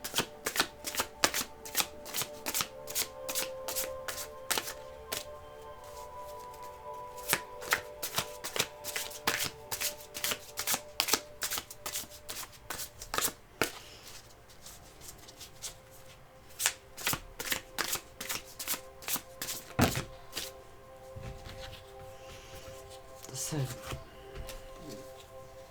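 Tarot cards are shuffled by hand up close in repeated crisp riffling bursts, some quick and clustered, others spaced apart, with brief pauses and occasional quiet speech between shuffles.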